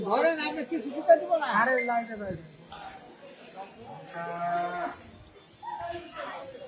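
Cattle moo loudly and repeatedly, long drawn-out lowing calls close by, with market noise and chatter in the background at Kalma cattle market.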